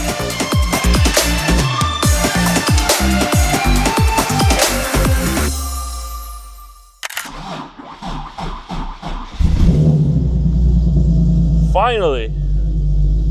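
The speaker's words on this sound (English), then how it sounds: "After 1 whole month, this thing finally is running, but it's on ethanol" A modified Nissan 370Z running on ethanol rumbles and revs after background music fades, its engine loud and close with a deep idle, while a man exclaims over it.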